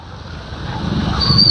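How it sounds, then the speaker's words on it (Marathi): Vehicles drive through knee-deep flood water on a road after torrential rain. A loud, swelling slosh and rush of displaced water builds steadily as a vehicle pushes closer, with faint wind noise underneath. "हे गुडघ्या इतकं पाणी ही गाड्या बघा ही गाड्या कशा येतात इकडे पुढे कशा येतात गाड्या"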